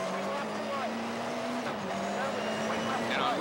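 A rally car driven by a driver with a co-driver runs on wet stage roads at the 1994 Rally Baie des Chaleurs, a steady engine drone with tire hiss and splashing, continuous and fairly near, with talk over it.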